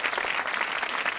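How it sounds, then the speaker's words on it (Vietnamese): Applause from a studio audience on a Vietnamese TV dating show, a dense steady clatter of many hands filling the whole short moment with no voices over it. "Vỗ tay."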